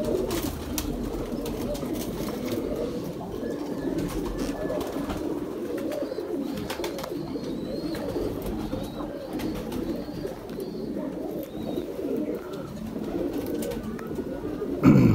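Coos from a 222-breed pigeon roll on steadily and close by, layered over a busy background of soft bird noise.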